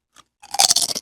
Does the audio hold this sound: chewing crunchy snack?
yes